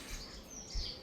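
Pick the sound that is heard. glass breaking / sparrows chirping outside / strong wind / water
sparrows chirping outside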